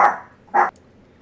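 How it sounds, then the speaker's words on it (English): A dog barks twice in the background, two short sharp yaps about half a second apart, fairly loud against a quiet backdrop. "we find ourselves having a dog that barks in the background"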